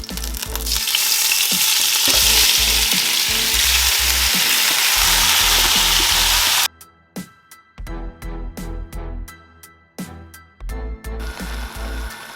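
Oxtail hits heated oil in a pot and fries with a loud, dense sizzle that runs steadily, then turns choppier and crackling with sporadic ticks and pops.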